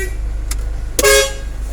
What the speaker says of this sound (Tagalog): Isang matindihang busina.